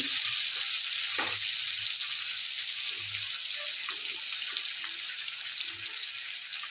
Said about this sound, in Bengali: হাফ চামচেরও কম হলুদ দিয়ে দিচ্ছি, দিয়ে একটু ভাজা করে নেব